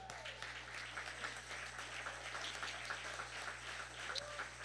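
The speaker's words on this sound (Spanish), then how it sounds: "Si le va a dar un aplauso" Faint applause from a distant church audience, a steady wash of clapping over a low electrical hum.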